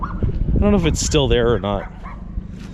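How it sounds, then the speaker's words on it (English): Dogs bark and whimper from a neighboring yard, a few short yips heard under someone talking close by. "these people's dogs are barking."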